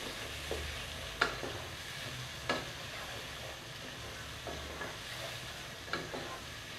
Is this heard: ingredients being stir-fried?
yes